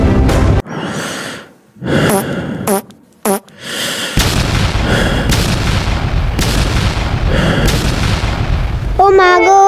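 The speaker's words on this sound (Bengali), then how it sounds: "বম ব্লাস্ট হচ্ছে" A cartoon bomb blast erupts into a loud, sustained booming rumble that fills the back half of the clip, following choppy bursts of sound and voices at the start, with a bright squeal near the end.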